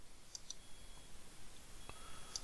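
Faint, sparse computer mouse clicks, a few isolated taps spaced apart over a quiet background hiss, heard while working in Oracle Fusion Cloud accounting software.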